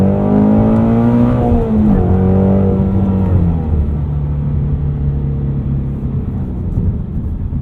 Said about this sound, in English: Test out passing performance here.